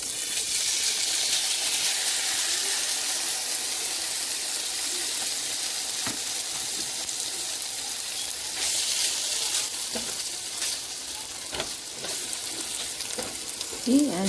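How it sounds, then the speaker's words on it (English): Tofu frying in a little hot oil in a pan gives a steady, close crackling sizzle that runs without a break, with a few small pops and stirring clatters near the end. "I put a little bit of oil in my pan so I can cook my tofu."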